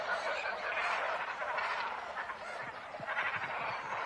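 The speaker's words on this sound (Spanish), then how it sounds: "En un lago forestal de las inmediaciones hay una colonia de cormoranes." Colony of about 1500 black-plumaged cormorants gathered at a forest lake for breeding, a continuous mass of harsh honking and croaking calls, distant and blended into a steady din with no talk.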